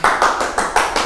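Audience clapping in a seminar room: loud, close, rhythmic claps in even unison beats, about five in just over a second, with no talk over them.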